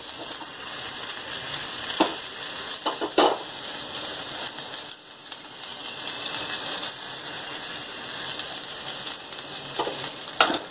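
Boiled chickpea sundal with ground roasted coconut being stirred in a pan after the stove is switched off: continuous loud crackle with scraping strokes and a few sharper knocks, no talking.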